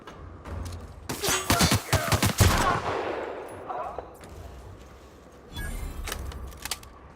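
Gunfire in the video game The Outer Worlds: a rapid burst of loud, sharp shots in quick succession, then a fading tail and a second shorter volley near the end.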